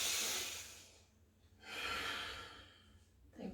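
Slow yoga breathing during an arm-raising exercise: a long airy inhale or exhale, a pause, then another broad breath, close to the microphone, with no talking.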